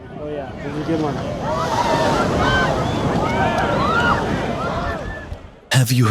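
Large ocean waves break and surge at Mavericks, a continuous loud roar of surf with wind buffeting the microphone, ending in a sudden cut to a different sound.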